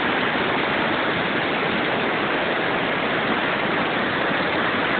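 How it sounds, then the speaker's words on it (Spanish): Water pours steadily down a waterfall near Xichú, a dense, even roar of rushing spray heard alone without voices. "miren la cascada."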